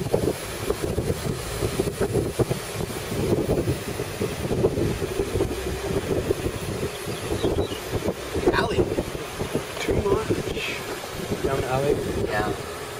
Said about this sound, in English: I'm going into the wind now, so it's all hot.